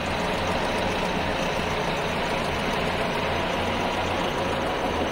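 A 1953 Willys M38A1 jeep with a 2200 cc engine and new exhaust header runs steadily at idle, giving a close, constant low rumble with an even throb and no voices.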